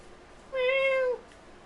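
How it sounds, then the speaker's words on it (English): A single clear, close meow from a Minecraft Bedrock Edition cat, lasting about half a second with a bright tonal, slightly falling pitch over a quiet background. "Minecraft cats are actually kind of cute."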